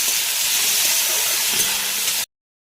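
Raw mango hits hot oil with tempered spices for a chutney and sizzles in a loud, steady, close hiss. The sizzle cuts off sharply after about two seconds.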